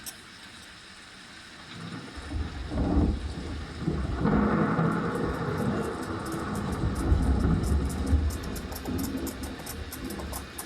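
A staged thunderstorm effect in a light and sound show at Amber Fort, Rajasthan: a deep rolling thunder rumble builds and sustains over a wash of heavy rain, loud and continuous, with no speech over it.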